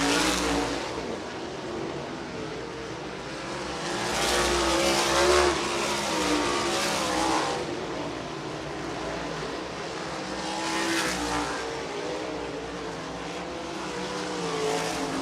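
Sprint race cars running hot laps on a dirt oval, engines roaring past and fading in repeated waves as they circle the track, with a steady background drone between passes.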